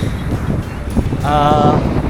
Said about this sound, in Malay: Angin ni padu betul.